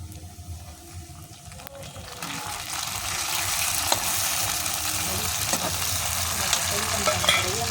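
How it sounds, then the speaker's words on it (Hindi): Onion, green chilli and garlic fry in a pan over a chulha, giving a steady, loud sizzle that grows after a couple of seconds, with a few stirring clinks and scrapes and no clear talk. "तो प्याज, हरी मिर्च, लहसुन भी डाल दिया है। अब लहसुन को हल्का सा भून लेंगे"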